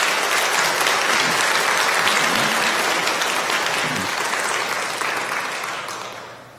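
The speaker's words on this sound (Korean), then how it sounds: "여러분들 따뜻한 환영의 박수 부탁드리겠습니다" A church congregation at a Sunday morning service claps warmly to welcome two new young members. The dense, loud applause goes on steadily for several seconds, then tapers off at the end.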